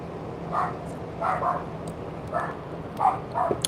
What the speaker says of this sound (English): I got neighbors who have little dogs, and they tend to like to bark.